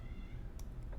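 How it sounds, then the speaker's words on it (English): A pet cat meows for attention in a short, faint call that rises over a low background hum. "My cat is suddenly demanding attention."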